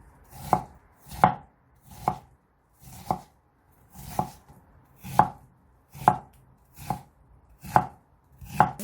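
A knife cuts a pear into thin strips on a cutting board, about a dozen crisp chops at a slow, even pace, each sharp tap standing alone against near silence.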